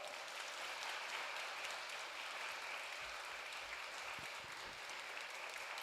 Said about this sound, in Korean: 환영하는 마음으로 큰 박수로 강단에 초청하겠습니다